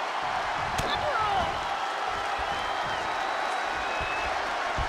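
A wrestling arena crowd in WWE 2K22 roars steadily and loudly throughout, a dense continuous cheer with faint thumps from the ring beneath it.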